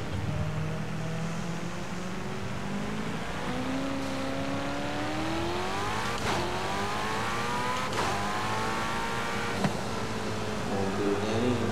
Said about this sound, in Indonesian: kita jalan aja ke sana menggunakan Ferrari